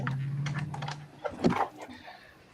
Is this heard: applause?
no